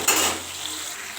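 Okra stirred in a pan over a low flame, a brief scrape of a utensil against metal followed by a soft steady sizzle.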